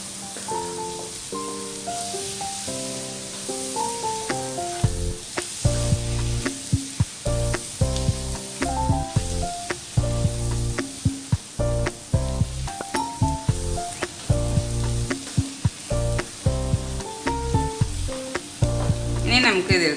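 Coriander powder masala for a Kerala-style chicken curry sizzles in a hot pan while being stirred, with a continuous crackling fry broken by repeated scraping strokes, close and without talk.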